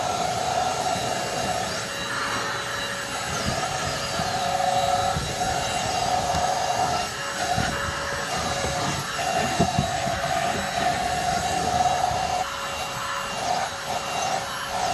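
An APOSEN H20-4 cordless vacuum running steadily on a car's carpet, a loud close whining motor hum with faint scraping and brushing variations throughout.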